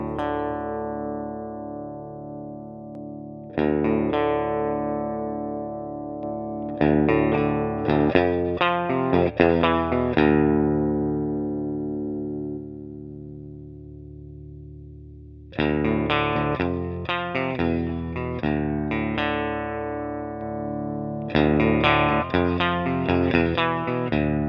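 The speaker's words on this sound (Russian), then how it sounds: "Таким образом, у нас получается вполне себе такая вот эмуляция раскачанного чистого звука." An electric guitar plays through an AMT La3 tube-emulation preamp set to a slightly overdriven clean tone: sustained chords ring out and decay, then alternate with bursts of quick picked notes, with no talking.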